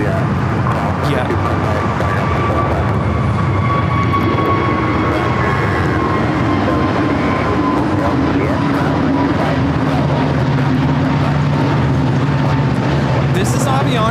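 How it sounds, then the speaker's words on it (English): An Avianca A320neo airliner takes off from LAX, heard as a loud, steady jet roar with a droning whine that holds for the whole stretch and slowly shifts in pitch. "This is Avianca 557 taking off to Guatemala City on the A320neo"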